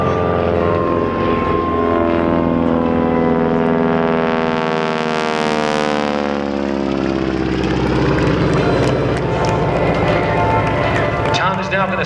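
A polished aluminum T-6 Harvard warbird flies a display pass, its loud propeller engine drone sweeping past close by, with pitch and tone shifting audibly as it passes, and no voices.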